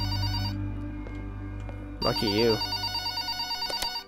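Telephone ringing in the video game Lust for Dankness, a house phone giving a run of quick repeated rings near the end, preceded by a brief spoken remark over low background hum.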